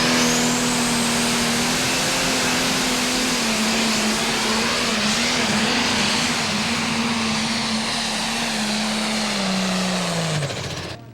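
A Pro Stock pulling truck at a truck and tractor pull roars loud and close, its engine tone climbing steadily with RPM under heavy load, then cutting off abruptly near the end.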